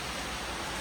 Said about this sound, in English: Sitting out, chilling, enjoying the rain. Isn't it literally so heavy?